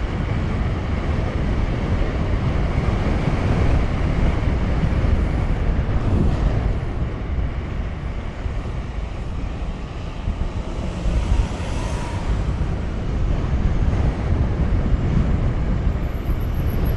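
Strong wind buffets the microphone while riding a Dualtron Victor Limited electric scooter, a loud continuous roaring rumble with gusty swells, dense low noise throughout and no speech.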